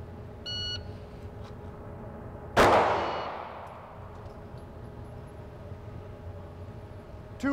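A single sharp pistol shot during a timed shooting drill, loud and abrupt with a trailing outdoor echo, set against quiet background hum and a faint electronic timer beep just before it.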